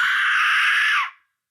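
An Aztec death whistle is blown in one sustained, piercing shriek that sounds like a human scream, held steady for about a second before cutting off into silence.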